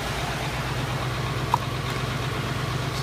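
A dump truck's 7.5 liter diesel engine idles steadily nearby with a constant low rumble and no speech.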